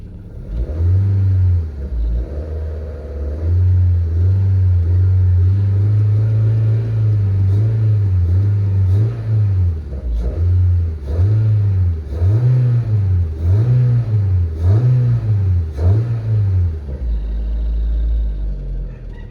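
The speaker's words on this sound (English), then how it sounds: "See how it revs pretty good?" A car engine idling and then revving repeatedly in a steady series of rising and falling pulses, loud and close, with no talking.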